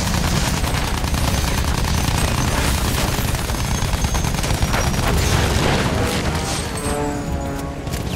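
Battlefield 1 combat: continuous heavy gunfire with rapid machine-gun bursts and booming explosions, loud and dense throughout with no speech.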